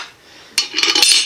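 A smaller metal pot set down inside a larger one for a candle heater, giving a sharp metallic clink followed by a quick cluster of scraping, rattling clatters as it settles, close and loud.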